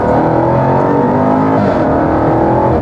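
Jaguar XE SV Project 8 sedan accelerating hard in a straight line, its engine a loud, steady, rising roar that fills the moment from close by, with no talking.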